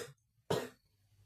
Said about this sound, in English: I'll cut off my coughing sessions